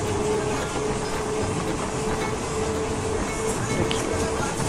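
A train running on rails, heard from inside a carriage with light rain outside: a constant loud rumble and rattle of wheels with a faint steady whine, no talking over it.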